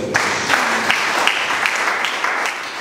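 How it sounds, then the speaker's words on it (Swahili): A church congregation breaks into applause, a dense wash of many hands clapping together with a steady, pulsing rhythm, moderately loud and filling the room without any voice over it. "Mpe Yesu makofi."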